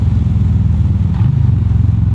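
A Harley-Davidson Street Bob fitted with an S&S Grand National slip-on exhaust idles close by, giving a deep, loud, lumpy throb with a brief rise in the middle.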